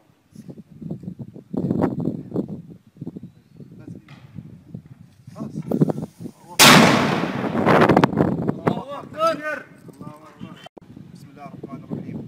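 An artillery battalion fires on a military intelligence checkpoint in Daraa: one loud, close blast with a long rumbling tail, amid shouting voices and chatter before and after.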